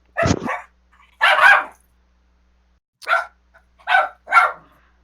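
A dog indoors barks in short, sharp bursts, one yip followed by four more spaced barks, loud and close in a quiet room. The dog is upset because its bone was stolen.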